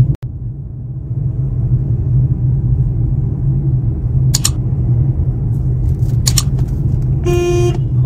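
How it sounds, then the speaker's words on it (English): A Renault Kiger CVT gives a few short horn toots, the last one a longer clear blast, over a steady interior road rumble while driving. "Horn is also very loud."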